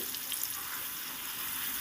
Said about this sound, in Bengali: ভালো করে একটু নেড়ে চেড়ে দিচ্ছি